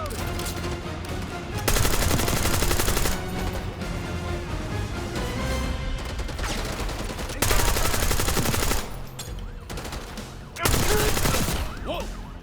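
Sustained machine gun fire in Call of Duty crackles loudly and densely, surging in heavy bursts with short lulls between them amid chaotic battlefield noise.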